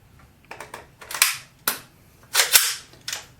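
A Beta Project Tactical AK airsoft rifle fires several sharp snapping shots in uneven succession, close and crisp, with small mechanical clicks between them and no talking.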